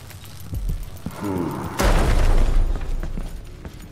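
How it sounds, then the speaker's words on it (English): A grenade goes off in the video game Dishonored 2, with a sudden loud boom near the middle followed by a rumbling, crackling tail that carries to the end of the clip. "What was that big bang?"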